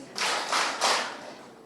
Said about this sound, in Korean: 자기 박수 3번 시작!